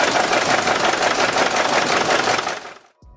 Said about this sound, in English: no matter how loud the steam engine gets, it can't do away with the hissing sound.